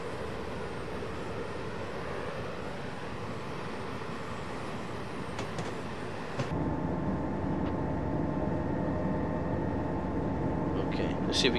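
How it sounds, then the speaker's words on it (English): A big passenger train in the video game Train Simulator 2014 makes a continuous low rumble and hum that steps up louder partway through, with occasional faint clicks and squeals. "It's quite a big train, isn't it?"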